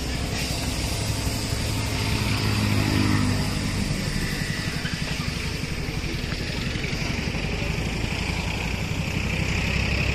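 Sonalika DI 50 tractor engine running steadily while driving, a continuous rumbling drone with a slight rise in revs partway through, close and loud throughout.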